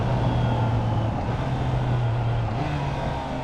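Triumph Trident 660 three-cylinder motorcycle engine heard from the rider's position, a steady droning hum with wind noise and a small pitch jump near the end, loud and continuous with no talk.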